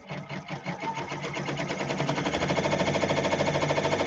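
Multi-needle embroidery sewing machine stitching applique, giving a steady rapid mechanical chatter that speeds up slightly and stays loud and rhythmic throughout, with no voices.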